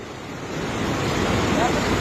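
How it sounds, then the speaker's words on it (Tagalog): Ocean surf breaks on a shore as a broad, steady wash of noise that swells slightly louder toward the end, with some wind rumble. "Yung alon."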